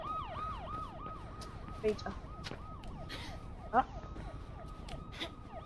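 A police siren wails in the game Mirror's Edge, cycling steadily through rising and falling sweeps at an even volume beneath a dense game soundscape, while someone says a word.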